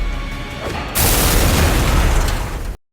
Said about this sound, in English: Monster walks into a literal trap and ends up eating a ball bomb.